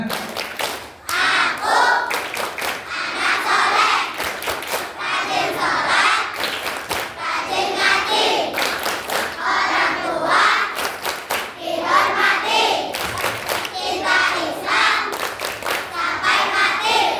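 Children at an Isra' Mi'raj school celebration at an elementary school clap the tepuk anak soleh rhythm, with bursts of patterned claps between chanted lines and young voices throughout.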